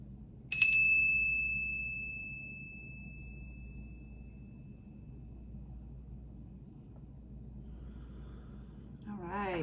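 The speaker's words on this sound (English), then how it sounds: "I am going to ask for that when I ring this bell" A single bell, rung for energy cleansing, strikes clearly and bright, then rings out with a long fading tail over a low background hum; a voice begins at the very end.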